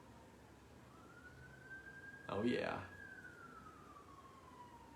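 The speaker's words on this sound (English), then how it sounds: "you guys hear that siren outside?" A siren wails outside, rising and falling as it passes at a moderate distance, with a brief louder burst of nearby noise midway and a short spoken remark over it.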